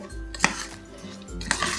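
A spoon stirs chillies, salt and turmeric in a metal pot, with two sharp clinks of utensil against metal over soft scraping and rustling, close and fairly quiet.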